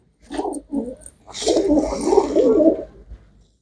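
Pigeons cooing close by in a loft of pied black-and-white birds, with a short coo, a pause, then a longer rolling throaty coo that fades out near the end.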